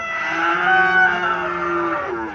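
A cow at a cattle market in Chouara, Cumilla, gives one long, loud, drawn-out moo lasting about two seconds, close by and on its own.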